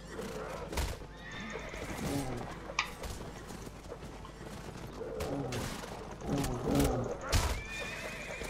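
A horse in the game The Last Days of the Third Age, ridden as a Rider of Rohan, whinnies repeatedly over steady clip-clopping hooves, with battle noise and scattered clanks throughout.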